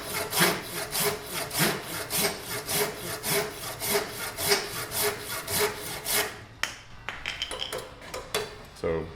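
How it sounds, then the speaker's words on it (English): Rhythmic back-and-forth strokes of a Silky Tsurugi curved Japanese pull saw with a coarse tooth and long stroke cutting through wood, steady close rasping for about six seconds before the sawing stops and a few light knocks and rattles follow. "That's a sweet little saw."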